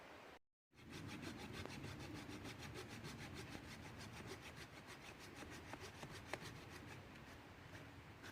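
Hand sawing through a log of old firewood at a winter campsite: a steady back-and-forth rasping rhythm of quick, even strokes that continues close up after a brief pause, with no talking.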